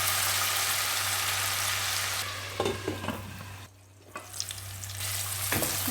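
Chopped tomatoes sauté loudly in a hot pan, a dense hissing sizzle with scraping stirs; it briefly drops quieter before the frying hiss swells again, over a low steady hum.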